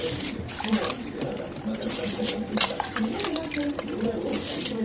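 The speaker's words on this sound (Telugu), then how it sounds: "సోనా బియ్యం అయితే యాడ్ చేస్తున్నాను" Soaked, washed sona rice is tipped into a pot with a wet, trickling patter and light metallic clinks, under steady talk from a woman.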